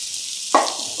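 Finely chopped onion, half a kilo salted for egg biryani, sautés in oil with a continuous close hiss of sizzling. A short louder burst marks a stir or toss midway.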